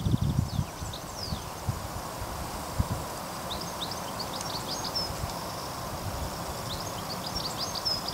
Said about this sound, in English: And you can hear the grasshoppers around the place. And the birds singing.